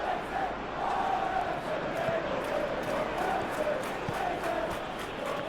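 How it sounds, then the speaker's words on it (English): A stadium crowd in a PES 2021 football match, Everton against Tottenham, roars in a steady, loud wash of cheering and chanting, with a commentator's voice over it. "the crowd are reacting to that now"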